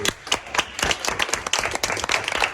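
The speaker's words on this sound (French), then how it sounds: "Vous pouvez applaudir si vous voulez." A small group of people clapping, a sparse, uneven run of sharp individual claps close by, with distinct hand strikes rising and falling in intensity and no speech.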